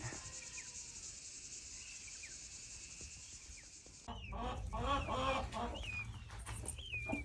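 Chickens clucking and calling close by among turkeys, peafowl and guinea fowl, joined by a louder burst of fowl chatter partway through, over a constant buzz of crickets.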